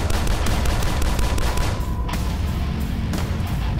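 Rapid turret gunfire in the retro shooter DUSK, a dense continuous barrage of cracks and booms filling the whole stretch at high loudness, with brief gaps but no letup.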